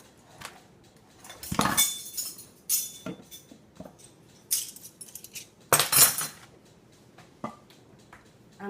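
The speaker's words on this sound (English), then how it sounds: "going to stir it a little bit." A utensil stirs a homemade vanilla lip balm mixture in a small container, giving scattered, sharp clinks and scrapes separated by brief quiet gaps, close and fairly loud.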